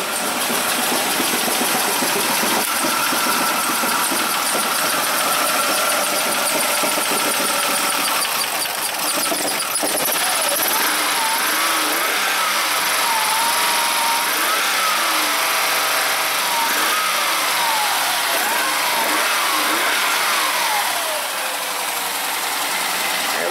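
A Ford Escape engine running loudly and unevenly, with rough sputtering and fluctuating revs, continuous and up close.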